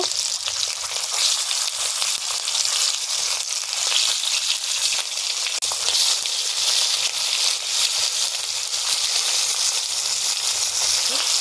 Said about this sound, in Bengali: এই দিকেরগুলো এরকম লাল লাল করে ভেজে নেব।